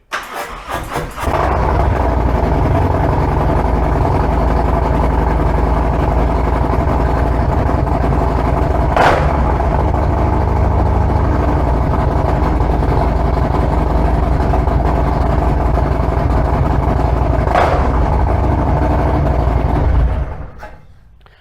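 A loud engine cranks, catches and settles into a heavy, steady idle close to the microphone, running for about twenty seconds with a couple of brief surges before cutting off abruptly.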